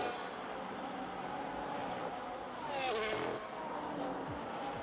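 Lando Norris's Formula 1 race car at full throttle, a continuous engine roar that swells as it passes close by, with a sweeping pitch change and a brief rise in loudness midway.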